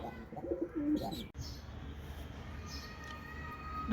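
Pigeons coo softly at a nest box where a newly paired couple have laid their first egg, low murmuring calls close by with a brief knock partway through.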